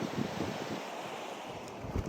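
The Kunar River in Afghanistan, swollen after recent rains, rushes steadily beside a roadside, a continuous broadband watery roar with wind buffeting the microphone throughout, no voices.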